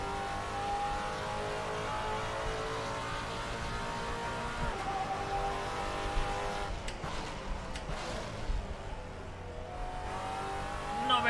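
A race car without ABS or traction control on a flying lap in Assetto Corsa, its engine droning steadily at high revs with shifting pitch, brief tire squeals and skids near the end, no talk.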